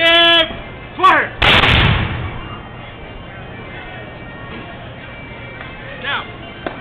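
A matchlock musket fires in an outdoor historical demonstration, a single loud, booming blast that decays over about half a second, preceded by a shouted command and followed by faint background noise.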